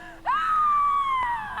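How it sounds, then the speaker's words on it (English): A single long anguished female scream from the film Maleficent rises sharply and holds steady for over a second, loud and close over a faint background. "Those screams."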